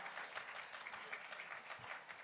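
Audience applause at the IIFA 2025 awards event, a steady wash of many hands clapping that holds evenly through the short stretch, moderately distant and without talk.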